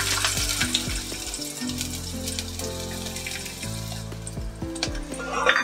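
Onion frying in a few spoonfuls of hot oil in a pan for a dried shrimp, eggplant and potato dish, a loud, steady sizzle with occasional spoon taps, close and without speech.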